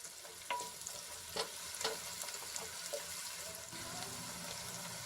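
Chopped onions fry in a pan during home cooking, giving a steady soft sizzle with occasional stirring clinks and scrapes, close and faint throughout.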